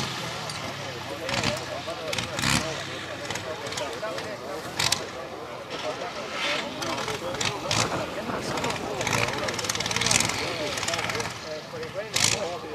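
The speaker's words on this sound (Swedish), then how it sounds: "det är en traktor byggd just för det här ändamålet" A purpose-built tractor-pulling tractor at a pulling event in Roma roars with a loud, rough, sustained engine blare, surging and crackling in bursts while a commentator talks over it.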